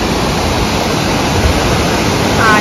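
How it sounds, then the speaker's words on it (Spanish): Steady, close rush of a small waterfall, a dense continuous roar of falling water with no voices. "Aquí otro poquito de cascada."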